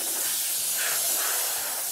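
A paint sprayer hisses continuously at close range while coating an exterior house wall next to brickwork, a steady, loud spray with no talking.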